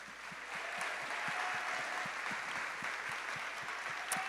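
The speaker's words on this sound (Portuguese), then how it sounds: "Vamos aplaudir," A church congregation claps steadily, a sustained burst of applause with distinct individual claps audible throughout.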